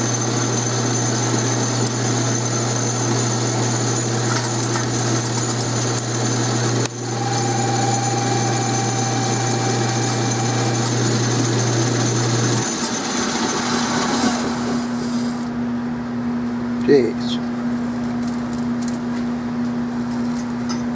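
Metal lathe turning 4140-HT steel hoist pins gives a steady machine whine with a constant motor hum that shifts pitch partway through, followed by a brief clank and a lighter running tone.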